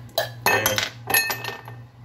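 Ice cubes dropped into a chilled rocks glass for an Old Fashioned, several sharp glassy clinks and rattles in two quick bursts, close and clear, with no talking.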